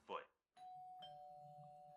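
Electronic doorbell chime heard in a Halo machinima, a sustained tone ringing out for about a second and a half and then sounding again, following a brief burst of speech, with faint background noise underneath.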